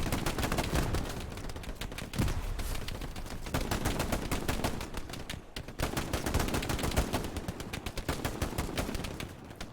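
Sustained gunfire exchange in the WWII shooter game Hell Let Loose, between a bunker and a broken building, with dense overlapping rifle and machine-gun bursts rattling continuously at steady loudness throughout.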